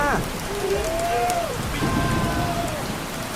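Heavy rain pours down steadily during a storm on a Bangkok street, a dense close hiss with a few brief wavering tonal sounds rising above it.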